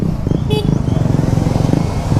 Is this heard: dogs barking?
no